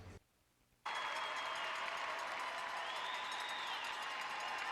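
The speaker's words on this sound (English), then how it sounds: "The cheer is prolonged for this man" Arena crowd at the 2009 World Figure Skating Championships bursts into sustained cheering and applause after a quiet moment, a loud, dense roar that holds steady throughout for 23-year-old Evan Lysacek.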